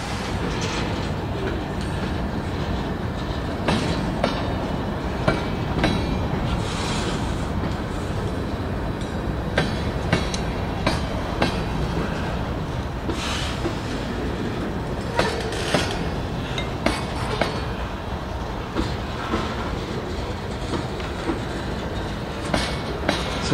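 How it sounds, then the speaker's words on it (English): A long BNSF freight train rolls steadily past in Greybull, Wyoming, a continuous loud rumble of railcars with rhythmic clickety-clack wheel beats and occasional sharp clanks, no voices over it. "No end of this train in sight yet."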